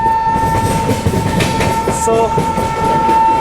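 Ranthambore Express sleeper class train running on its rails, a steady loud rumble with a constant whine, light clatter, and a brief horn-like tone partway through.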